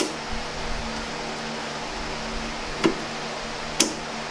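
An ArcCaptain Cut50 plasma cutter torch connector is pushed home and locks, giving two sharp, quiet clicks about a second apart over a faint hum.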